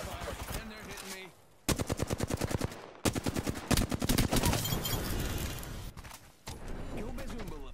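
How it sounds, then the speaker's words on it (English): Rapid automatic gunfire in an online shooter video game, loud bursts of fast repeated shots with brief gaps between volleys, game effects and explosions mixed in, dense and close throughout. "Shot fire, and they're hitting me."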